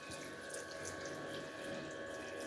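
Water runs steadily from a container into a blender jar of falsa berries for a shake, a continuous faint splashing stream.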